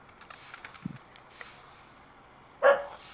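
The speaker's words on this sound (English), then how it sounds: "Enough! Damn dog." A dog gives a short, loud bark near the end, after a brief lower yelp earlier, with faint clicking like keyboard typing in the background and no talk.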